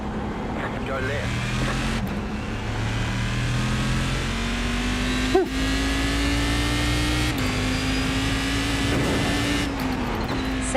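Race car engine from a sim racing video game, a steady mid-pitched drone that rises and shifts through gear changes across the whole stretch, with speech over it.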